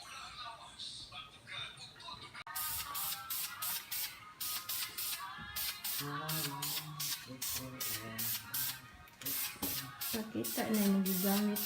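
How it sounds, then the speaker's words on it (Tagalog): An aerosol can sprays in a rapid series of short hissing bursts during a Christmas tree makeover, with someone talking over the later bursts. "Nakita na yung gigamit na spray."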